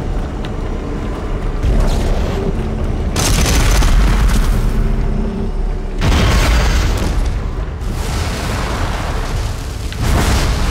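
A weapon goes off by accident in the video game Dead Space, giving loud, heavy booming blasts. Several thick bursts roll over one another in waves, near and dominant, with no talking.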